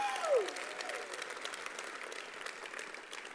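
Delegates at a trade union congress applauding: steady, dense clapping from a large hall crowd that holds throughout, with a brief whoop near the start.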